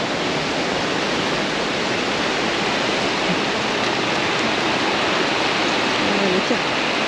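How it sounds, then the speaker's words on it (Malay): Heavy rain outdoors near a river, a dense, continuous broadband hiss with no breaks, loud and enveloping, with faint voices now and then underneath. "Jalan ke kafe. Hujan lah. Hujan lebat."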